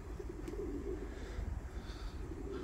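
Pigeons coo close by, their soft, low, rolling calls repeating continuously over a faint background hum.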